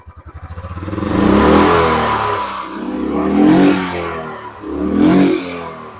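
A Royal Enfield Bullet 350 Electra with about 18,000 km on it fires up with fast thumping beats, then rises through three loud, close throttle revs, each swelling and falling back to a rumbling idle.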